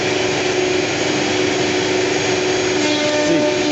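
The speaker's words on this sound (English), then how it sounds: "Okay, now this machine running." A CNC machine running in a workshop, giving a loud, steady, unbroken mechanical whir with a faint tonal hum throughout and no talking.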